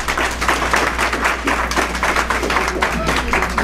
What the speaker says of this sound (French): Et je souhaiterais que vous l'applaudissiez.